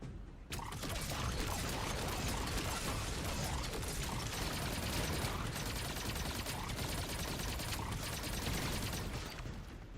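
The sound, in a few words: cannon fire in video game Destiny 2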